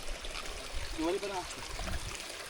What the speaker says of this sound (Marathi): दिवाळीपर्यंत हा झरा असतो.